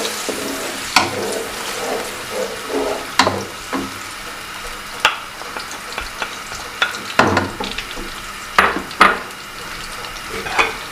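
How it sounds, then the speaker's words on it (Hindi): Blended onion paste frying in a cup of hot oil for Lahori chikar cholay, a steady crackling sizzle broken by sharp stirring scrapes and clatters of a utensil against the pot. "अब इसमें हम अपना प्याज डालेंगे"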